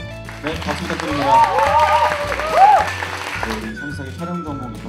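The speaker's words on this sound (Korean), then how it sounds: "박수 부탁드립니다." Audience applause at a Korean film academy graduation and entrance ceremony, a steady wash of clapping rising and falling across the hall beneath a sustained musical tone.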